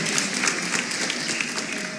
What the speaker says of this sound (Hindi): प्लीज़ आ जाएं ज़ोरदार तालियों में